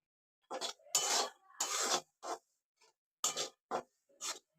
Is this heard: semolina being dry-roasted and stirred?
yes